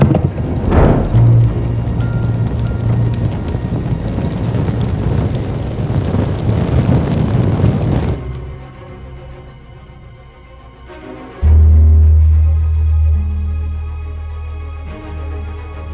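Horses galloping through rain in the Game of Thrones video game, a steady broad rush of hooves and rain for several seconds that drops off, with a low rumble surging back near the end.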